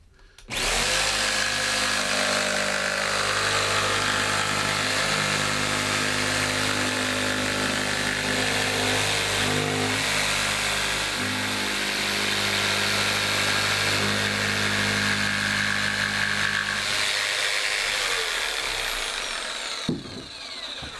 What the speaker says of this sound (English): I'm using just a jigsaw to rough cut these templates from the sheet of MDF